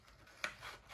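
Scissors snipping paper close up, one short crisp cut standing out against faint background rustle.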